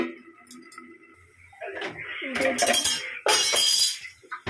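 Metal lid and utensils clink and scrape against a cooking pot of drumstick greens in a home kitchen, a few sharp knocks and rattles ending in a louder clatter, close by with no talk.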